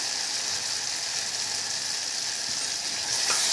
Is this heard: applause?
no